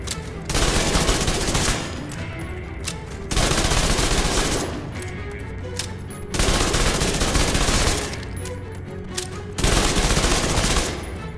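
Chatterbox SMG fire in The Division 2 rattles out in four loud, rapid full-auto bursts of roughly two seconds each, separated by short pauses.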